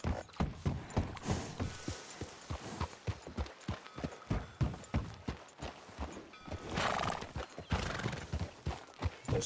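Horse in the video game Red Dead Redemption 2 clip-clopping with steady, close hoofbeats and a whinny partway through, quiet overall and with no talking.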